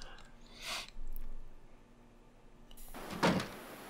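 In the video game The Long Dark, a door opens with a short thud and scrape, then a louder rush of wind-like noise follows near the end, all fairly close with no talking.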